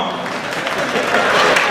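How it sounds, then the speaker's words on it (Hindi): Audience applause at a Hindi comic poetry gathering in Kanpur style, a dense wash of clapping that builds slightly over under two seconds, loud and close with crowd noise mixed in. "यहाँ तालियां आती हैं"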